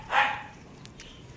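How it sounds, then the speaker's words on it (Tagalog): A single dog's bark rings out near the start, followed by faint outdoor background with a couple of small clicks. "Kumakawala yung aso nila."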